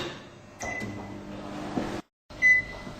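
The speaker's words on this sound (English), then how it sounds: "we will melt the butter and chocolate in the microwave" A microwave oven melting butter and chocolate runs with a low, steady electrical hum, then cuts off abruptly, followed by a short clunk.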